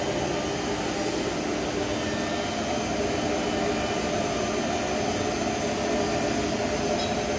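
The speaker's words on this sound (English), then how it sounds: "this is a CNC machine cutting it down" A CNC machine cuts foam for cabinets in a Quality B van motor home factory, giving a loud, steady, broadband machine roar that holds for the whole stretch without pause.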